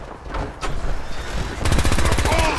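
Rapid, loud bursts of automatic gunfire from a player's weapon, fired while wearing power armor in a video game, clattering in a dense rhythm through the second half after scattered shots and game noise.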